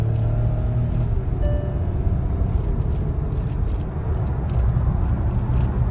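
A Hyundai Venue N Line with a turbo engine accelerates, heard from inside as a steady low rumbling drone with a faint whine, holding a fairly constant level throughout.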